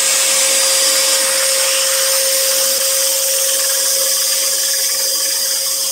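Dust extractor running steadily during scroll saw woodworking, a loud continuous vacuum-like roar with a fixed whining tone throughout, no talk.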